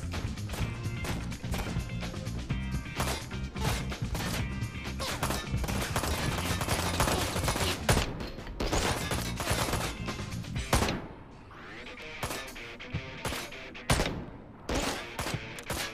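Dense bursts of gunfire from the video game Ride to Hell: Retribution, layered shots and crashes packed tightly for about eleven seconds, then a brief lull before a few more loud, sharp shots close by.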